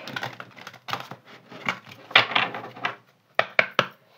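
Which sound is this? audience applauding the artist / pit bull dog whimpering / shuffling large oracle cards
shuffling large oracle cards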